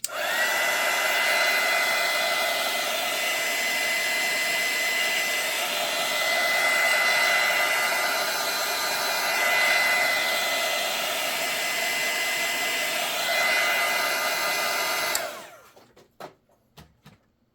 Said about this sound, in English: I'm going to take my dryer for time's sake, and I'm going to go ahead and dry this a little bit.